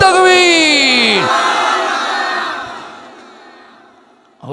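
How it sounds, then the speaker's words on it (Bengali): A large crowd at an Islamic waz gathering roars the takbir in unison, a loud sustained chant of many voices that swells and then slowly fades out. "এখন সবাই মিলে একটা তাকবীর দান তো জোরে দেখি"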